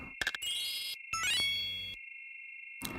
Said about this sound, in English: don't mind the ringing, that's an emulation bug that's been in since this game got dumped